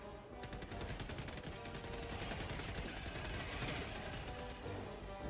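Rapid automatic turret gunfire in a video game, a steady dense stream of shots lasting several seconds with faint scattered impacts mixed in.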